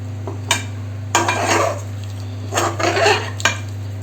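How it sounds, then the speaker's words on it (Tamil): Chettinad chicken pepper fry being stirred in a pan: intermittent scraping and clinking strokes of a metal spoon against the cookware over a steady low stove hum, with no talking. "இப்போ நம்ம இதுக்கு பெப்பர் பவுடர் போட்டு கொஞ்சம் ட்ரையாக கிளறி இறக்கலாம்"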